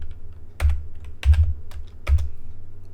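Someone types on a computer keyboard to enter coordinates in Rhino, pressing enter at the end: three or four sharp, close keystrokes spaced unevenly across a few seconds, with no talk.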